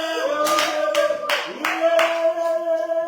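A worship congregation claps hands in unison, about five strong rhythmic claps spaced roughly half a second apart, over sustained singing or music with no one talking.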